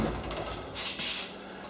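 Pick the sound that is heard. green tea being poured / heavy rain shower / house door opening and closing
house door opening and closing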